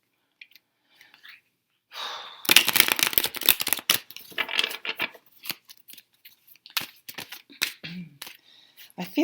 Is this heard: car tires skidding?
no